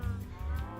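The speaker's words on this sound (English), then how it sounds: "look at these cows." A brief low moo from cattle in Minecraft (FTB Infinity modpack), a single drawn-out bovine call, moderately quiet and alone.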